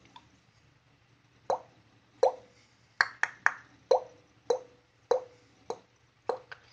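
A beatboxer imitates water drops by clicking the tongue off the palate with a wah-like mouth shape. About a dozen close, hollow plops come in an uneven rhythm, with no talk.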